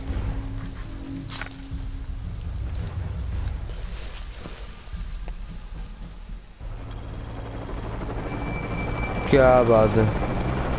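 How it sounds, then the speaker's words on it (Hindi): A helicopter flies overhead in the video game Shadow of the Tomb Raider on a PS4 Slim: a continuous rumbling rotor drone under other game noises, swelling louder near the end, while someone talks over it. "हेलीकॉप्टर ऊपर उड़ रहा है"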